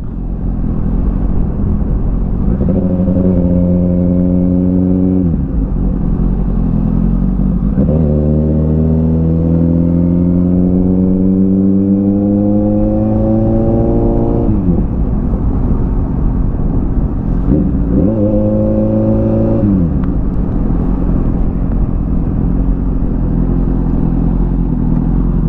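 A Kawasaki Z800 motorcycle engine on an onboard top-speed run, loud and close, climbing through gears in repeated rising pulls with brief drops at each shift over steady wind rush.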